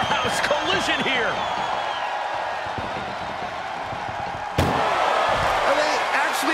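A heavy metal ambulance door slammed during a wrestling video game ambulance match, a sharp hard impact cutting through steady crowd noise and commentary near the end.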